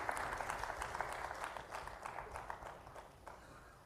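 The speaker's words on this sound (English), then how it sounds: "Please give them a big round of applause." An audience at an open-source AI event claps in a burst of applause, dense at first and gradually thinning and fading over a few seconds, with no one speaking.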